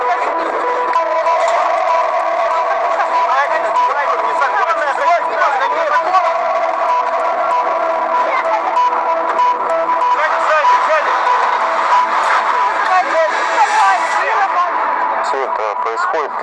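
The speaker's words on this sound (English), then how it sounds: "the crowd started to leave the court building" A crowd streams out of a court building, a dense, continuous hubbub of many overlapping voices, shouts and movement close by throughout.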